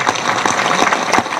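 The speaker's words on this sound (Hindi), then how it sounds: "और जोर से ताली बजा के धन्यवाद करो" A crowd at a rally supporting women athletes breaks into loud, dense clapping, a steady, close wash of applause with no pauses through the brief moment.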